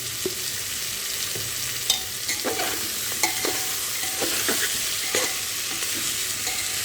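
Vegetable khichuri seasoned with salt and cumin powder is stirred in a hot pan, a steady frying hiss with repeated sharp scrapes and taps of a spoon against the metal, close by.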